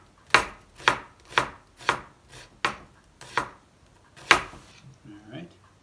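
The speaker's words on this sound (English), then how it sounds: "I'll just slice up some onion here." A knife slices onion on a board for coleslaw, eight crisp evenly spaced chops close up, one harder cut near the end, then a few faint soft sounds.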